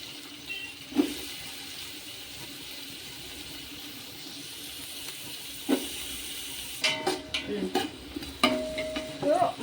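Sliced onions dropped into hot oil with roasted green chilies for a large batch of chicken biryani give a low, steady sizzle, broken by sharp clinks and scraping of a spoon against the pan, growing busier toward the end.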